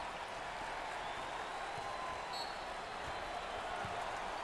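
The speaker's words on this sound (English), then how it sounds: "Standing ovation." An arena crowd at an NCAA March Madness Sweet 16 basketball game between Virginia Tech and TCU roars and applauds in a standing ovation, a steady wash of cheering and clapping heard from a distance.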